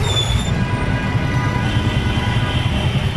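LRT light rail train on Avenida in Manila, a loud continuous low rumble of wheels on track with a faint high whine, close and steady, amid street traffic noise.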